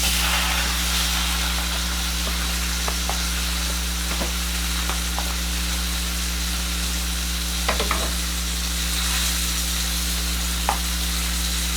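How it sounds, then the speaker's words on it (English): A seasoned steak with Worcestershire sauce and mustard fries in a pan with a steady, loud, close sizzle and crackle, a few small pops rising over the constant hiss and a low background hum. "I'm going to let this fry up."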